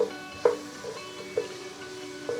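Ground beef frying in a home kitchen pan for a meaty chilli, a steady low sizzle with a few soft clinks or stirring knocks at intervals, fairly faint and with no talking.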